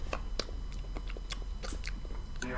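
Crunchy, rock-hard 1988 Topps baseball card gum being chewed close up, giving a series of irregular crisp crunches and bites with no talking.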